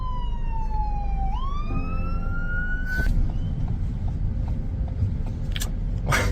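A fire engine's siren wails past during the Maui wildfire, its tone rising and falling up close, then cut short by short horn-like blasts over the rumble of street traffic.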